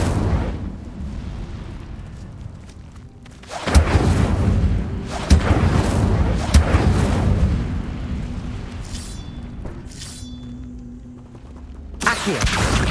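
Incendio fire spell cast in Hogwarts Legacy: several sharp, loud bursts followed by roaring, crackling flame noise, with a final blast near the end.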